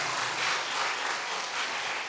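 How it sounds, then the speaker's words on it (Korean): A church congregation claps together in a steady, full wash of applause that swells slightly and holds for a couple of seconds, with no voices on top. "박수 한번 칩시다."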